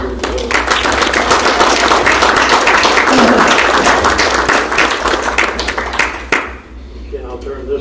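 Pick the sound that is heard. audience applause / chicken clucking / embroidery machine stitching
audience applause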